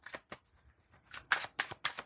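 Crystal oracle card deck being shuffled by hand, a few soft riffles at first, then a quick run of crisp, close papery bursts in steady rhythm, with no voices.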